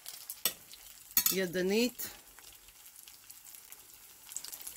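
Matzo fritters fry in a pan with a steady, soft sizzle, broken by a few scraping and stirring sounds nearby, and a voice speaks briefly.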